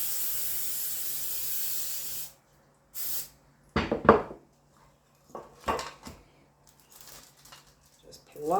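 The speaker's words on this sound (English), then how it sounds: "We're going to spray the pan." Cooking spray hisses onto a baking pan in a long burst, then apple bombs are dropped into a muffin tin with metallic clanks and clatters, close by, with gaps of quiet and some talking.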